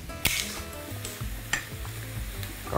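Soft sizzling of onions frying in a pan, punctuated by a few sharp clinks and scrapes of stirring.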